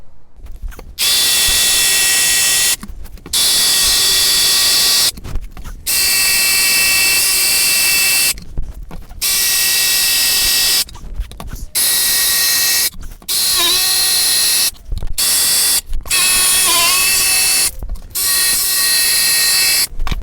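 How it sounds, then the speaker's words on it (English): A jigsaw cuts out a sacrificial wooden insert for a drill press table, loud and close, running in long buzzing bursts separated by brief pauses. "Let's get to the jigsaw."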